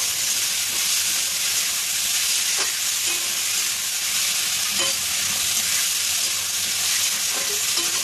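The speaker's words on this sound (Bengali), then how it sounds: "টমেটোটা আমি সরু সরু করে কেটে রেখেছিলাম, এটা আমি দিয়ে দিচ্ছি" Thinly sliced tomatoes fry in hot oil for a fish roe dish, a continuous bright sizzle with occasional utensil scrapes and knocks as they are stirred, with no talking.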